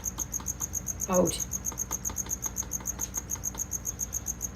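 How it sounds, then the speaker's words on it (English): Crickets chirp in a fast, steady pulsing rhythm that runs evenly throughout, with a brief spoken word cutting in near the start. "That it should scare all of the living crickets"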